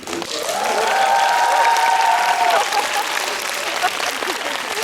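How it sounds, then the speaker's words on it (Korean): Sustained applause from a film event audience, steady clapping filling the room, with voices faint underneath. "박수 부탁드립니다."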